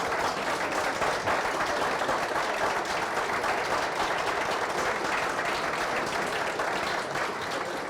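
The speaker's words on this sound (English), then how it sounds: "I hope you will join me in giving them a strong round of applause" Sustained audience applause at a talk on women's leadership in ocean science, many hands clapping in a dense, even roar that holds steady from start to finish.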